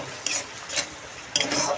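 Katla fish pieces are stirred in a pan with salt and dried chili powder, giving a few short, close scraping stirs over a faint sizzle.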